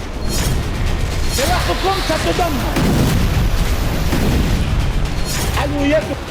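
Artillery fire and explosions along the Lebanon-Israel border: a series of deep booms and blasts thudding repeatedly over several seconds, with voices shouting and talking between the impacts.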